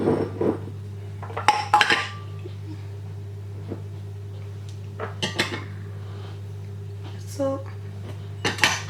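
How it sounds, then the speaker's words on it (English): Dry ingredients for Jamaican festival dumpling dough being combined by hand in a bowl, with scattered clinks and scrapes against the bowl over a low steady hum and a brief spoken word. "I'm just gonna combine all the dry ingredients together"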